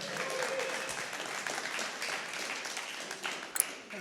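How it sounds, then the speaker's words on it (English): A conference audience gives a speaker warm, steady applause, soft and fairly distant, with a diffuse wash of clapping that swells and thins slightly, plus a couple of sharper knocks near the end. "That's actually a way warmer applause than I was expecting"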